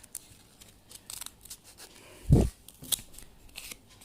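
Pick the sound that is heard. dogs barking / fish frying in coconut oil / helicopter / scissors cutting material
scissors cutting material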